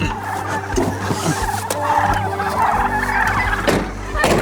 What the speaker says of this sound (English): But these are turkeys that are available